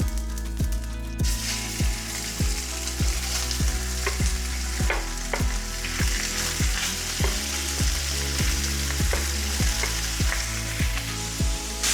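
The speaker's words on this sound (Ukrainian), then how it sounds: "Злегка обсмажуємо до румяної скоринки з двох боків на помірному вогні." Steady loud sizzling of pork frying in hot oil in a heavy-bottomed pot over moderate heat, with bubbling crackle and occasional stirring scrapes throughout.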